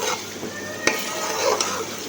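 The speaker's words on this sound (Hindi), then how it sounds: "अब हम चिकन को अच्छे से फ्राई करेंगे।" Chicken for biryani frying in a pan with garlic-ginger paste, a close, steady sizzle with one sharp utensil tap midway and a brief scrape near the end.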